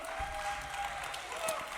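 Gallery audience at an art and jazz event applauds a singer and her band, a brief, soft, even patter of clapping heard from a distance, steady throughout.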